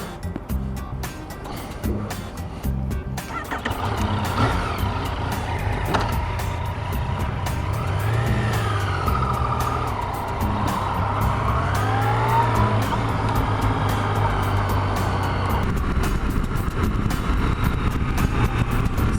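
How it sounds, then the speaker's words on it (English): Heavy interstate traffic out of Chicago rushes past a motorcycle, a steady loud roar of engines and wind with tire hiss and several vehicles sweeping by in close succession, no voices. "a lot of traffic on this interstate coming from Chicago"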